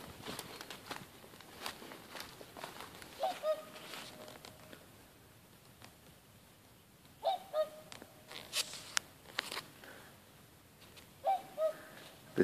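Swans on an island after the ice has broken up, giving a few honking calls in short bursts at a moderate distance, with footsteps and faint background birds between the calls.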